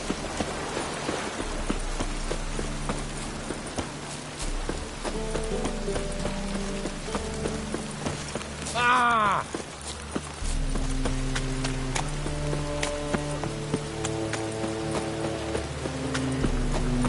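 Horse hooves clip-clopping steadily on the ground in The Witcher 3, a moderate walking rhythm that continues throughout under soft rain-like ambience and low music, with a brief swooshing cry midway.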